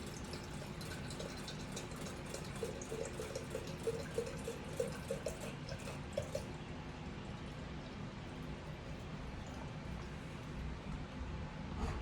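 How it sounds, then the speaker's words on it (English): Tap water pours steadily into a teapot, a continuous close rushing and splashing that stays even throughout and eases slightly toward the end. "I'm just gonna fill up my teapot here"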